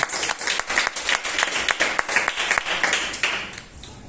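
Church congregation clapping hands in praise during a Spanish-language worship service, a loud, rhythmic run of roughly regular claps that fades slightly near the end.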